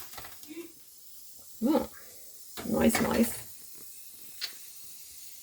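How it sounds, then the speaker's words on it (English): Steam hisses briefly from a pot of pork bone broth that has simmered for about 15 to 16 hours, short soft bursts in a quiet kitchen, with a person speaking in between. "Oh, steam."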